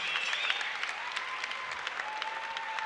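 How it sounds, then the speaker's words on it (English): Steady applause from a Muay Thai event crowd for two fighters after a bout, a fairly distant, even patter of clapping with a faint tone running underneath. "Ladies and gentlemen, please give these two warriors a round of applause."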